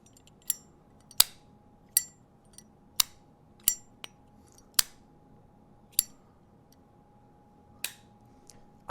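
A Zippo lighter fitted with its regular insert snaps open and clicks shut repeatedly, giving about a dozen sharp metallic clacks at uneven intervals, close and clear against a quiet room.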